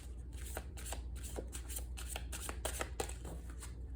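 Santa Muerte Oracle deck cards being shuffled by hand, rapid crisp riffling flicks in a steady run of repeated bursts, close and fairly quiet, with no talking.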